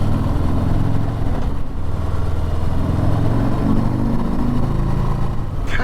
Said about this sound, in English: Kick up on this engine's lovely